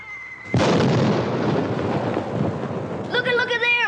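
Heavy booming rumble of cannon fire in a TV western, a loud broadband roar bursting in after a brief tone and rolling on for several seconds before a voice begins speaking over the end.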